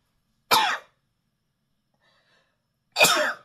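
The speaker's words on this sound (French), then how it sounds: "J'ai éternué, c'est pas grave." Two sharp, explosive sneezes by a person indoors, each loud and brief, about two and a half seconds apart, with near silence between them.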